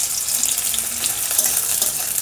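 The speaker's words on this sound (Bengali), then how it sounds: "একটু পেঁয়াজ ভেজে নেব" Onion fries in a pan for palak paneer, giving a steady, close, hissing sizzle with faint stirring scrapes throughout and no talking.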